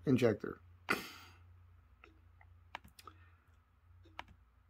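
Computer mouse clicking on arrow buttons of a car parts website showing views of an ACDelco fuel injection spider assembly; a few sharp, isolated clicks after a burst of speech, quiet and close.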